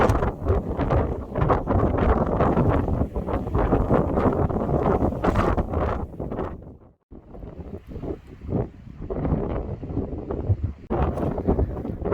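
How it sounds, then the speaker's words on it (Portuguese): Strong gusting wind roars across the exposed summit of Pico Itapiroca, a mountain in Brazil, buffeting loudly and continuously with a brief lull midway before surging again, close and dominant with no talk over it. "que vento!"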